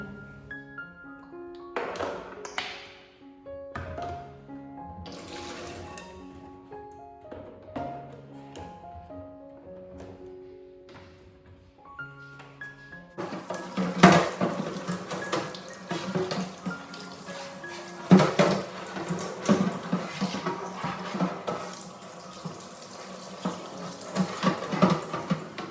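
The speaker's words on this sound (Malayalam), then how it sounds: "ലിക്വിഡ് വെച്ചിട്ട് ഈ ബേസിനിൽ തന്നെ ക്ലീൻ ചെയ്യാം" Running tap water and splashing as fridge trays are washed with liquid soap in a basin, starting with quieter clinks and rinsing, then a steadier louder flow of water with scrubbing and knocks from about halfway on.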